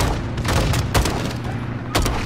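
Heavy gunfire and explosive booms from a launcher strike in the Call of Duty Modern Warfare 2 campaign, with dense bursts of shots and three sharp loud blasts over a constant battle rumble.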